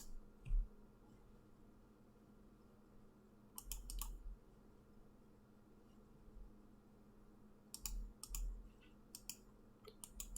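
Keys on a keyboard are pressed in short sparse clusters, each press a faint, dry click, with quiet gaps between the bursts and no talk.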